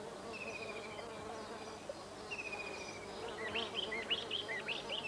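Honeybees buzzing around fragrant bug orchids in a humid meadow, a steady close insect drone with a few thin bird chirps rising over it toward the end.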